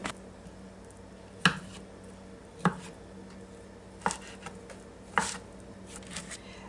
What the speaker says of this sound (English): I've now got the potatoes diced up